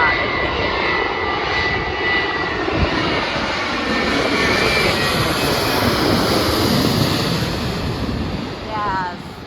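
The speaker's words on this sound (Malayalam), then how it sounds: "ഏകദേശം ഇപ്പം എൻ്റെ തലക്ക് മുകളിൽ കൂടി പോകും കേട്ടോ ഒരു ഫ്ലൈറ്റ്." A low-flying airplane on final approach to land in Bahrain roars loudly and steadily overhead, a broad continuous engine rumble that holds close throughout and eases slightly near the end.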